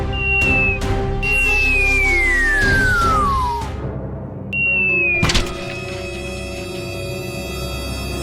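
A cartoon garbage truck slams into a big rock: sliding whistle tones fall away, a heavy thunk lands, then a second pitched whistle and a sharp impact follow, with comic effects ringing on afterward.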